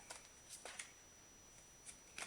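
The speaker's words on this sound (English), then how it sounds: "I think I'm gonna pull some more, shuffle some more." Tarot cards are shuffled quietly nearby, several quick papery riffles and flicks in short irregular bursts against a very quiet background.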